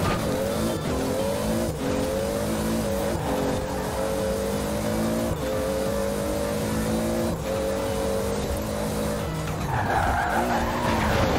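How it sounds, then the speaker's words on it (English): A car in the Forza racing game drifts with a loud, sustained engine drone and tire squeal. The engine pitch wavers through the slide and climbs sharply near the end. "I let that dude pass me with the drift."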